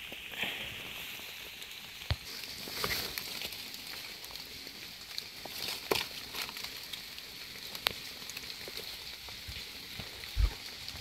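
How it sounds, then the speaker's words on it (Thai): Steady rain patters on leaves and ground in the Nong Mek forest during a mushroom hunt, a dense wash of fine drips with scattered louder drops and crackles throughout. "ฝนก็ตกลิ้นครับผม"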